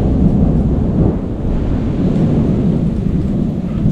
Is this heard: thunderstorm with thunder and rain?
yes